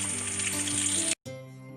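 Kanthari chili chicken fry sizzles loudly in a pan as it is turned, with a dense crackling hiss and a few scraping clinks, then cuts off briefly before a quieter simmering resumes.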